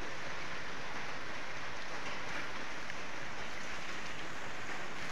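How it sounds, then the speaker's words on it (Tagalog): Heavy rain pours steadily outdoors during work on a van, a dense, constant hiss of downpour with no pauses, fairly faint and alone without voices. "Ulan na naman, lakas ng ulan."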